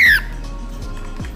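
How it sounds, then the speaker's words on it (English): A loud, sharp squawk from birds near the front of a resort in Cancun, one harsh call at the start followed by quieter background rustle. "Here are some birds. Let's have a look at these guys."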